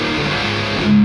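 A high-gain distorted electric guitar played through the Otto Audio amp plugin with its impedance curve switched off, a loud, dense sustained chord swelling near the end.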